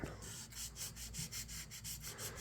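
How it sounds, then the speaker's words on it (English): Light hand sanding of a CAMCO 229 electrician's knife with sandpaper, a soft, faint, steady rhythm of short rubbing strokes, close up and alone. "take some sandpaper and just lightly go over it"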